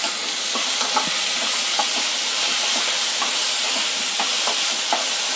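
Beans and cumin sizzle in a hot pan with a steady, continuous hiss and faint crackles throughout, with no talking.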